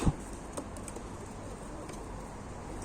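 Soft, low pigeon cooing in a quiet space, a few brief murmuring calls over faint background noise, as the pigeon is handled for ectoparasite treatment.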